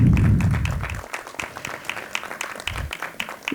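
Applause at an education forum opens loud and full, then thins into scattered individual claps that continue through the rest of the moment.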